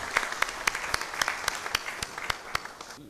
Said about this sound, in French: Nous pouvons applaudir pour M.